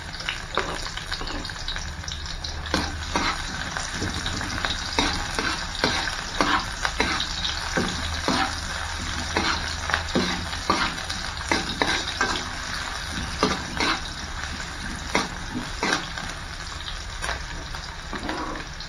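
Onions sizzle steadily in a hot pan, a continuous close crackle with dense popping and occasional stirring scrapes throughout.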